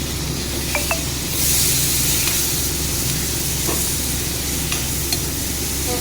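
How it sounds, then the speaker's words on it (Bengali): Chopped tomato frying with other ingredients for a prawn (jhinga) dish, giving a steady close sizzle with hiss and occasional stirring scrapes throughout, no talking. "একসাথে সব ভেজে নেব।"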